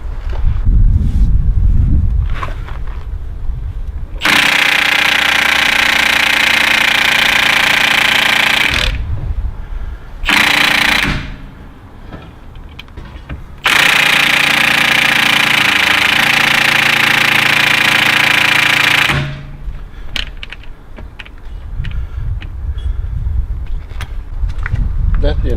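A loud pneumatic impact tool rattles on a bolt of a 2001 Audi A6 during CV joint replacement, in two long bursts with a short one between, a mechanical clatter under a noisy shop background.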